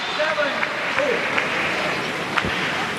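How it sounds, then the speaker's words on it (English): Crowd noise at a women's team badminton quarter-final at the 2017 SEA Games, a steady, fairly loud wash of cheering and clapping from the stands with a few brief louder bursts. "Cheer from Malaysia"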